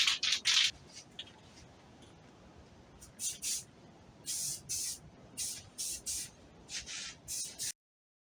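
Short hissing bursts of a spray can applying primer to a 2020 Toyota Camry SE front lip, about ten quick sprays of varying length, close by with quiet pauses between them.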